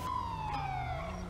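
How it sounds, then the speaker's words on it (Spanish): Police car siren in GTA roleplay, a steady wailing tone sweeping slowly up and down, loud and continuous over low engine rumble, with no talking. "vamos a poner las sirenas y así podemos ir a la velocidad que quedamos"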